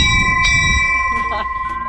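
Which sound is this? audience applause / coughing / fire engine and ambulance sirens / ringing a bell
ringing a bell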